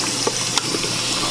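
Cold tap water runs over a hot Presto 01370 8-quart stainless steel pressure cooker, making a steady hissing, splashing wash with a couple of brief clinks, close and fairly loud.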